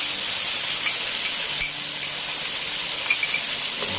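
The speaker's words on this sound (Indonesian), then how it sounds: "Kita tumis sebentar." Spice paste made from mixed soup and kurma spices sautés in hot oil for a bone soup, giving a loud, steady sizzle and hiss throughout with faint clinks and no speech.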